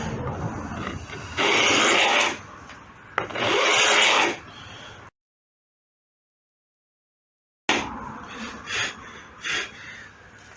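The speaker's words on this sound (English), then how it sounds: "As these are stainless steel frets, you have to give it about twice as many passes as you would normally give it with a file." Hand file rasping across stainless steel frets on an electric guitar neck, two long loud passes, then a pause and several shorter strokes.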